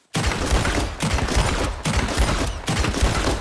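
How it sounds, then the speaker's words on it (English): Rapid volley of explosive-round gunshots in the Western video game Red Dead Redemption, loud and close, firing in a dense continuous burst with a few brief gaps between blasts. "Can I use my explosive shots on him?"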